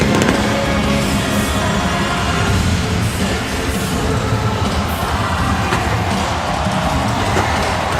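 Fireworks at the Asian Games 2018 opening ceremony, a dense, continuous crackle and rumble of bursts filling the air, loud and unbroken throughout with no clear gaps.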